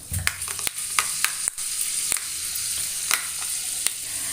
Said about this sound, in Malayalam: ചൂടായ വെളിച്ചെണ്ണയിലേക്ക് ഒരു കാൽ ടീസ്പൂണ് ഉലുവട്ട് കൊടുക്കുന്നുണ്ട്